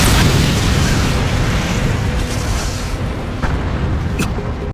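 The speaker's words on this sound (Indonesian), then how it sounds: "tiba-tiba sebuah peledak muncul dan membuat tong berisikan minyak meledak" An oil-filled barrel explodes in a loud, sustained roaring blast that fills the whole span, rumbling heavily and slowly fading, with no speech over it.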